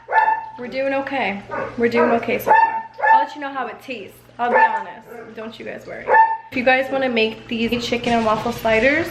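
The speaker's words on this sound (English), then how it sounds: "By the way, sorry that my dogs are barking." Several dogs bark and yip intermittently in a home kitchen during the making of chicken and waffle sliders, mostly mixed under nearly continuous talking.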